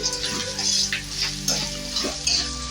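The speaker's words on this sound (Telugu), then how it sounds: "ఇట్లా బాగా మిక్స్ చేసుకొని కొద్దిగా ఫ్రై అవ్వాలి" Green chillies and cashews fry in oil in a pan for Telugu mango rice, a steady close sizzle with occasional stirring scrapes and no talk.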